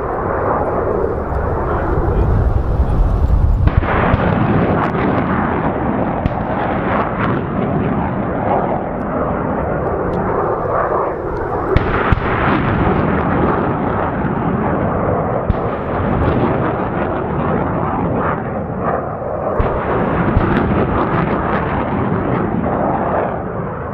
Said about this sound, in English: Reduced range practice rockets for a total of 20 rockets.